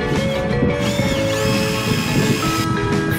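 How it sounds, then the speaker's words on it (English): Power drill boring holes in hard plastic furniture parts during home assembly, a loud continuous whirring motor with mechanical rattling, close up and steady throughout. "we need to use a drill that making a hole"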